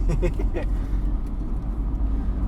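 A Jeep Comanche pickup drives along with a low, steady engine rumble and road noise, while a voice talks briefly at the start.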